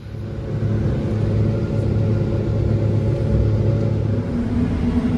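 A truck rolls along in a convoy between fields, giving a steady low engine rumble and road drone heard from inside the cab, with no talking.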